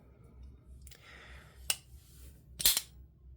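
A Protech out-the-front automatic knife fires its blade with sharp, snappy clicks, the loudest coming near the end, set against a quiet background.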